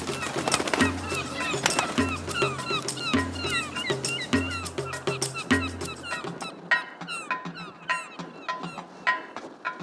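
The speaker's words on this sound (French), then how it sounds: "De quoi attirer les mouettes, toujours prêtes à récupérer les poissons égarés." Gulls cry over a busy sardine port on the Saharan Atlantic coast, sharp squawks repeating among harbour clatter and low engine hum, then standing out more clearly against a quieter background.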